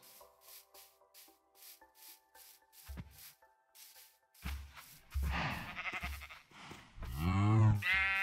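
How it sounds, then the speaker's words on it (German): A sheep bleats in Minecraft, the wavering game bleat rising loud near the end after quieter clicks, block-rubbing scrapes and brief thumps. "Da oben dürfte nämlich noch ein Schaf sein."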